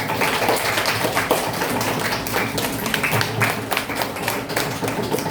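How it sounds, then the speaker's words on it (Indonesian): Schoolchildren clapping their hands in an elementary school classroom, a dense, steady patter of many small hands lasting several seconds, close and fairly loud, with faint voices mixed in. "Oke, tepuk tangan."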